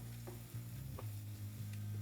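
Chopped vegetables with green chilli fry and are stirred in a pan, a soft sizzle under low hum with a few scraping stir strokes, brief and quiet, no talk.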